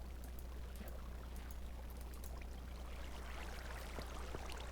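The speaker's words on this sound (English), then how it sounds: "we can start filling with water" Water flows and streams steadily in the blocky world of Minecraft, a faint, continuous hiss and trickle that runs softly and evenly from start to finish.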